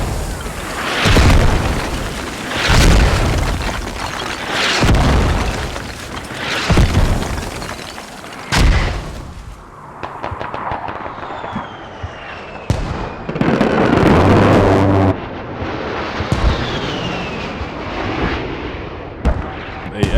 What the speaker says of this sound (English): Airstrike from the Americans on the southern FOB.